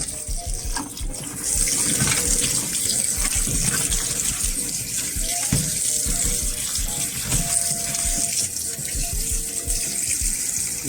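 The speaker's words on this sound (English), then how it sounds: "Okay, folks, we're gonna wash our shrimp." Running tap water gushes into a sink as shrimp are washed, a loud, steady splashing stream close by with some clattering handling underneath and no speech.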